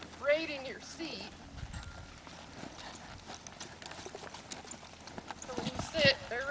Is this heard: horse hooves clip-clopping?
yes